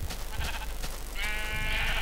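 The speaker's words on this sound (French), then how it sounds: "je tue un mouton" A sheep in the Minecraft video game gives a clear, short bleat near the end, following brief game sounds and background noise.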